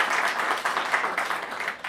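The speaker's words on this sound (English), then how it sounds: "you deserve a very big hand of applause for that," An audience applauds at an event on the sidelines of the BRICS Summit, a dense, steady patter of many hands clapping that fills the short stretch at an even level.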